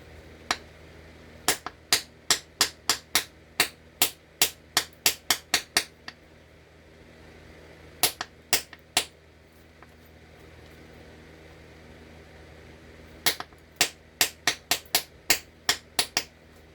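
Stone being flintknapped to knock off a crumbly, granular concretion, with sharp clicking strikes in quick runs of about ten, then a pause, a few more, another pause and a final burst, close and clear with no talk.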